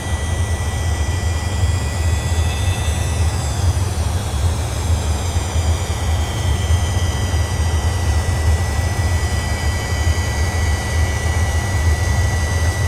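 The jet engines of an Avro Vulcan, an old bomber, give a steady, loud, continuous roar with a high whine on top as it manoeuvres toward the runway. The sound is unbroken and carries no talk.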